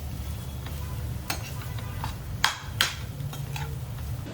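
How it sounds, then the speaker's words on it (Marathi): Boiled mashed potatoes being stirred and mixed into the masala for frankie tikkis in a pan, with soft scraping and a few sharper knocks of the spoon against the pan over a faint sizzle. "आता इथे मी पोटॅटो छान बॉईल करून मॅश करून घेतलेले, ते यामध्ये ॲड करू. आणि मिक्स करून घेऊ सर्व."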